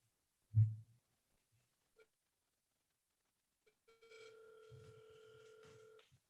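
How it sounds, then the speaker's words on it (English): A telephone rings once, a steady electronic tone lasting about two seconds near the end, after a single soft thump and a couple of faint clicks in otherwise near silence. "Can you hear the phone ringing?"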